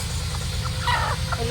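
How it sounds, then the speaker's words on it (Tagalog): A hen clucks while laying an egg, a few short, close clucks and a drawn-out cackle against a steady low background hum. "Ay, naiitlog yung manok."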